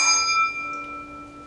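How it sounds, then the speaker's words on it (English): A metal bowl used as a singing bowl is struck once, giving a clear bell-like ring with several pure sustained tones that decay slowly over about a second and a half. "Then I also have this one, which kind of acts as a singing bowl."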